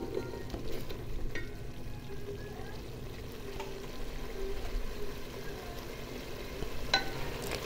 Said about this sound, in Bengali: সব মশলা ভালো করে কষিয়ে নিব এখন।